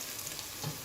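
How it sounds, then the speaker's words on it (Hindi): Onions frying in oil toward light golden for chicken biryani, a faint, steady sizzle close by with light stirring, no voices. "ये देखिए हमारी प्याज लाइट गोल्डन होने लगी है।"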